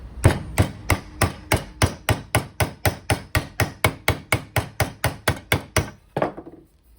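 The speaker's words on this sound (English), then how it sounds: "So just that little bit of hammering has made that now fit perfectly" Metal body panel being hammered during bodywork on an Escort RS Turbo RWD conversion: about twenty loud, close, evenly spaced blows in a steady rhythm, ending with a final strike and a brief rattle.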